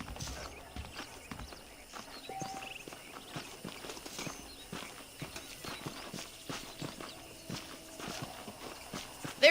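Horse hooves clip-clop at a steady walking pace in the Wild West video game Red Dead Redemption, close and rhythmic over quiet ambient background throughout.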